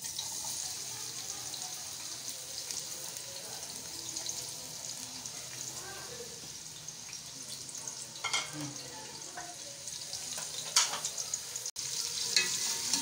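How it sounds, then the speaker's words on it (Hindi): Finely chopped onions fry in a pan for a dum chicken handi, giving a steady, fairly quiet sizzle with occasional stirring scrapes and clinks, without speech. "प्याज को हम लाइट ब्राउन कर लेंगे।"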